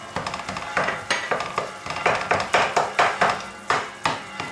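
Sizzling bolognese meat in a pan, just splashed with white wine, is stirred with a spoon in a steady run of scraping strokes over a continuous hiss, close and fairly loud with no talking.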